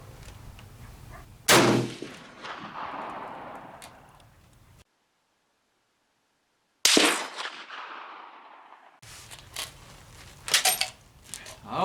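Rounds fired at an outdoor shooting range from a gun loaded one at a time: a few sharp, loud separate shots, each trailing off in a long echo, with pauses and some handling noise between them.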